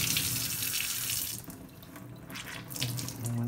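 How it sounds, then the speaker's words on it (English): Towels being moistened under running tap water and squeezed out, a continuous close rush of water into a sink that wavers and splashes as the cloth moves, with no talking. "We want to go ahead and moisten these as well and squeeze out the excess."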